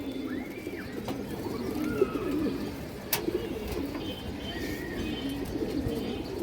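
A pigeon coos in low, repeated bursts close by, with light chirps and a couple of sharp clicks mixed in.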